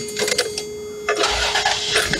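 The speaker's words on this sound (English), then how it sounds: "We will start up this Toyota and let this V6 purr." A 1989 Toyota pickup with a 183ci fuel-injected V6 cranks over in short bursts, then catches and fires up with a low rumble, close and fairly loud.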